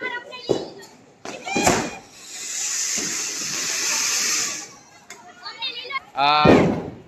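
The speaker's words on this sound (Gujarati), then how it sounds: "બધા ફટાકડાઓ ફોડી રહ્યા છે" Diwali firecrackers burst in a string of sharp, loud bangs, with a long hissing fountain-type cracker spraying in the middle, while people talk and cheer close by.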